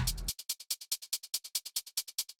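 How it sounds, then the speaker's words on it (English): A bright, crisp shaker loops in a fast, even rhythm, its quick rattling strokes repeating steadily after a brief burst of noise at the start. "The shaker sounds like this."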